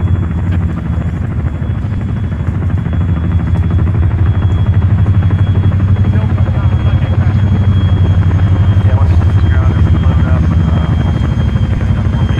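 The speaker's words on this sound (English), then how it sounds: "got in and I was sitting at the top of the helicopter." Helicopter from the ArmA 3 video game flying continuously with a loud, steady low rotor and engine drone throughout, the sound holding constant with no pauses.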